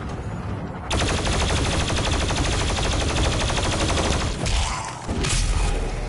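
Rapid, sustained gunfire from a first-person shooter, Doom Eternal, blasting at an enemy's arm cannons; loud dense automatic bursts run nearly continuously for about five seconds with brief dips, no talking.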